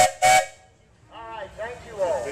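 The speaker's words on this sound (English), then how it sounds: "Valerie, toot your whistle" Two short sharp blasts of a steam engine whistle, close and piercing, followed by a brief pause and then people talking.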